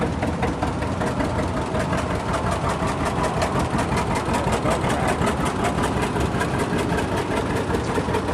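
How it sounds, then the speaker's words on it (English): A 1952 John Deere G tractor idles at a farm show parade, its engine chugging in a fast, even, loud rhythm of low thumps with no talk over it. "Scott Erickson from Altona, Illinois, with a 1952 John Deere G"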